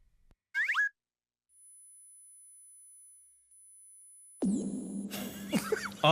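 A thin, steady high-pitched test tone holds faintly for a couple of seconds amid near silence, followed later by a louder burst of mixed sound.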